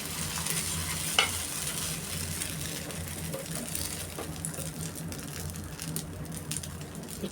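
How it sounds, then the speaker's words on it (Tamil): Dosa batter sizzling and frying steadily on a hot pan, a continuous close crackle with a sharp tap early on and no talk. "இப்போ தோசை ஊற்றிக்கலாம்"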